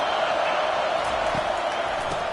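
A stadium crowd at a Notre Dame versus Florida football game roars in a steady, dense wall of noise that fills the whole stretch without a break.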